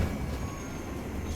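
A train in the video game 13 Sentinels: Aegis Rim, a steady low rumble of rolling rail cars with a faint high wheel whine, continuous and even throughout.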